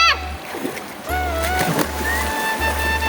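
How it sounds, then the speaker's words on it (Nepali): Water splashes and sloshes as clothes are washed outdoors, with rhythmic low thumps recurring through the stretch. Voices talk over the washing. "यस्तरी धुन पर्छ घाँस कपडा"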